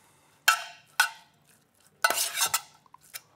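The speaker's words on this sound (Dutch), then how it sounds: "En dan gaan we dit mooi mengen." Steak tartare being mixed in a bowl with chopped cornichons, capers, chives, shallot and parsley: a few soft, close scrapes and clinks of utensil against dish, separated by quiet pauses.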